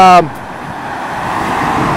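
Road traffic sweeps past a walker on a rural route along the Nez Perce Trail, opening with a brief loud horn-like tone, then a steady rushing wash of a vehicle passing close by.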